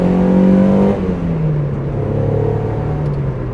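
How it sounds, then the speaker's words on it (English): A 1995 Mazda MX-5 engine, near and loud, holds a steady rev, then drops in pitch and settles into a rising, rumbling pull as the throttle opens. "You hear that throttle crack open."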